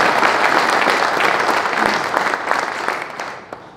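Enthusiastic audience applause at an AfD party district meeting in Hohenlohe, loud and close, dense clapping that gradually tapers off over a few seconds.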